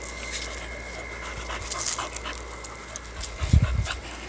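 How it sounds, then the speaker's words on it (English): A dog panting quickly up close, with soft whimpers and a few sharp thumps mixed in. "Sorry, my dog."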